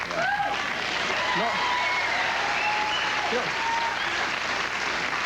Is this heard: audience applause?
yes